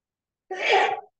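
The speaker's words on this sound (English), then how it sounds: "We'll hear the sneeze." A single short sneeze in a church during a sermon, a brief breathy burst lasting about half a second against otherwise silent surroundings.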